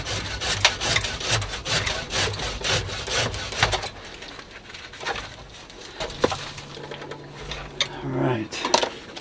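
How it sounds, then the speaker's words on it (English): A big hand saw cutting through a small tree's wood while digging up a yamadori, with rapid rhythmic back-and-forth rasping strokes, close and loud for about four seconds, then a few scattered scrapes and handling sounds with birds in the background. "I'm going to use my big saw."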